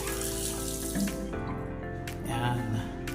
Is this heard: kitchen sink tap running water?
yes